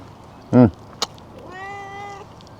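A cat meows once, clearly and fairly close, at a pine-forest campsite during a holiday cooking trip. Other short noises come just before and after it.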